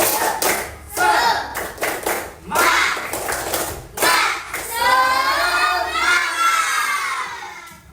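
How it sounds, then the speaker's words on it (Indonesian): Classroom pupils perform a rhythmic clapping chant, bursts of claps in a patterned beat mixed with children's shouted voices, close and lively, followed by group chanting. "kita akan tepuk semangat"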